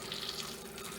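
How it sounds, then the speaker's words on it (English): Hot water pours steadily into a bowl of shrimp noodle soup with vegetables, a brief close splashing rush with no voices. "the important part is to add the hot water"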